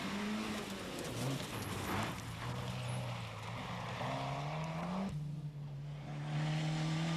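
A four-wheel drive Ford Sierra rally car on a stage of the 1994 Townparks Rally, its engine droning and shifting pitch as it passes, with a sharp change in tone near the end.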